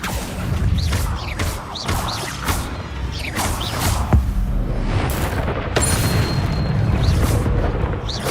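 A dense, busy stream of magical whooshes, bursts and booming impacts from Accio and other spells in Hogwarts Legacy, loud and continuous with sweeping swishes and sharp hits throughout.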